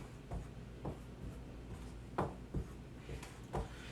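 Marker strokes on a board while sketching a triangle for a trigonometry lesson, a series of short scratchy taps and rubs spaced irregularly over a steady room hiss, with no talking.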